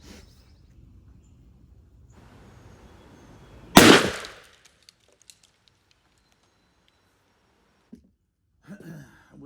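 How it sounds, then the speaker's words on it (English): Mossberg 935 12-gauge shotgun firing a Federal TSS tungsten 3-inch heavyweight turkey load at a 30-yard pattern target outdoors: one sharp, loud blast that rings off briefly, with quiet surroundings and a few small clicks afterward. "All right, TSS 3-inch round, 2nd shot, sight adjusted,"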